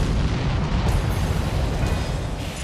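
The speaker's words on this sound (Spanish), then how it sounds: "Para acentuar aún más la destrucción de Norteamérica, se producen explosiones en el aire." Asteroid fragments burst apart in the atmosphere in a continuous, heavy rumbling roar of explosions that holds at steady loudness without pause.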